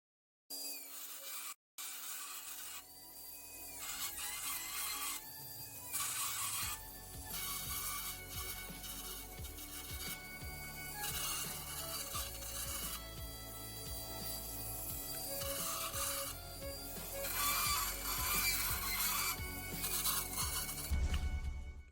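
Grinding and polishing a toilet flush plate button for a Geberit Sigma, Geberit Delta or TECE installation: a steady, close rasping scrape runs continuously with a dense rubbing texture and brief pauses, and no one speaks.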